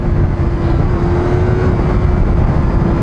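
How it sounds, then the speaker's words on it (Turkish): A 2020 Yamaha R25 motorcycle engine with its stock exhaust roars at high revs, a loud, sustained, steady drone with a strong held pitch that does not let up for the whole three seconds. "stok egzoz motoru öyle bir çıldırma sesi var ki değişik bu"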